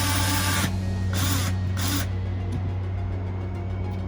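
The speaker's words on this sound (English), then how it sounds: "here's my Black & Decker battery on my Black & Decker drill" A Black & Decker battery-powered drill running in bursts, whirring close and loud in three short pulses over a steady electrical hum, with no talking.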